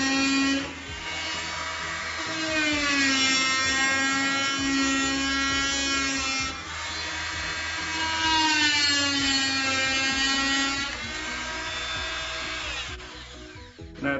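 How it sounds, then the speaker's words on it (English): A FastCraft oscillating multi tool with a wood blade makes side and plunge cuts in wood, giving a loud, steady, high-pitched buzzing whine that runs in long stretches, dips briefly between cuts and stops near the end. "next we'll be looking at the wood blade and doing a couple just side cuts and a plunge cut"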